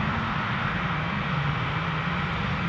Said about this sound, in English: It's an EasyJet Airbus A320.